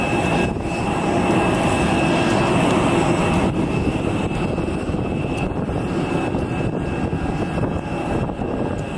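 Loud, steady roar of an airplane engine running close by, a constant broadband drone throughout.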